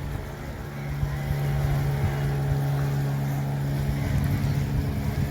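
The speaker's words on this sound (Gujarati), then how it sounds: "સ્પીડી બોટ આવે છે અહીંયા." A speedboat runs on a lake near Jaisalmer, its engine a steady, fairly close drone that holds an even pitch throughout over broadband water and wind noise, with no voices.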